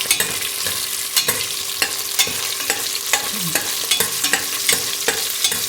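Onions with salt fry in a home kitchen pan, a steady hiss of sizzling broken by repeated scrapes and taps of stirring, close and continuous with no talking.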